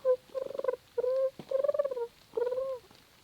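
A person works a turkey call in the Maine woods, imitating a hen turkey's soft purring and clucking in four short, close, fairly quiet bursts with pauses between them.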